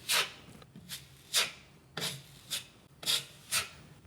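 A filling knife spreads compound into a cut or gouge in GIB plasterboard, giving repeated short rasping scrapes, about seven strokes in a steady rhythm, close and clear with no talking.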